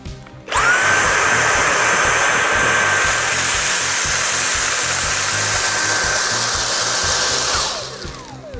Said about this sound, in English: So on the left side here, we'll be using the Dyson